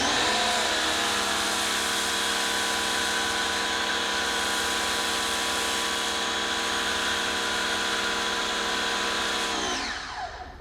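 A car-wash foam cannon with a 1.1 mm orifice spraying soap onto a car, giving a loud continuous hissing, whining spray that holds steady for about ten seconds before cutting off, with no talking.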